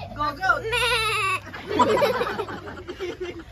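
A goat bleats once in a wavering, drawn-out call at a resort in the Philippines, followed by indistinct chatter and background noise.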